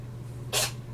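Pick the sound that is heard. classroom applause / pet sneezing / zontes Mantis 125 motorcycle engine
pet sneezing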